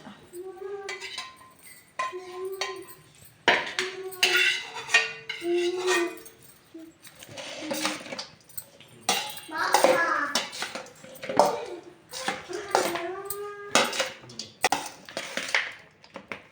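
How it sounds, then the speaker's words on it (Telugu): Cooked rice, half a kilo, is mixed in a vessel for pulihora, with scraping and light clinks of a spoon against metal, while someone talks over it. "అన్నంలో వేసి కలుపుకుందాం అర కిలో రైస్ అన్నమాట ఇది"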